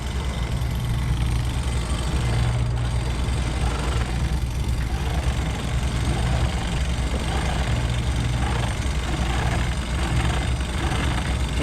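A sailboat's engine drones steadily and unchanging as the boat motor sails with its sail out between Langkawi and Koh Rok, a constant low hum throughout.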